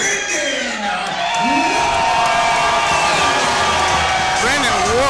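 A huge crowd at a live MMA event cheers and whoops loudly and continuously, filling the arena with a dense roar, while an announcer's voice carries over the noise.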